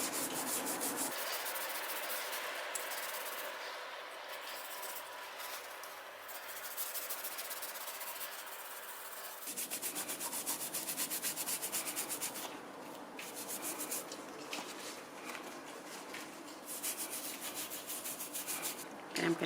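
Brush scrubbing with The Pink Stuff cleaner around the edges of dirty trainers: a steady, close rasping rub that runs almost the whole time, with a brief pause near the middle and no talking.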